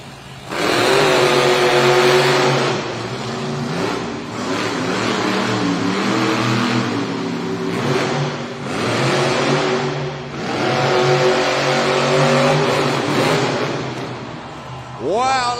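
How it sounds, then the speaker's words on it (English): A Monster Jam monster truck sits at the start line of an arena racing event, its big engine roaring loudly in repeated surging revs under a constant crowd and arena din. "Truck is fired up."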